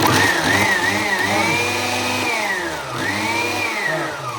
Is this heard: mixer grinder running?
yes